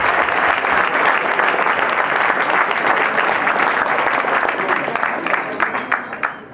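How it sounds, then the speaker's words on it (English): Sustained applause from a crowd at a press conference for an extreme football event in Canada, loud and steady throughout, with a few individual claps standing out as it tapers at the end. "Big round of applause"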